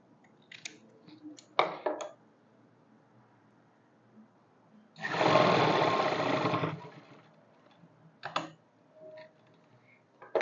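A sewing machine stitching straight-cut pants runs in one steady, close burst of about two seconds, framed by a few short clicks and fabric handling sounds before and after.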